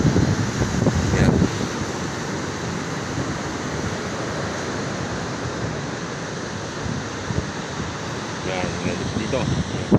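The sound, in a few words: ocean waves and wind at the shore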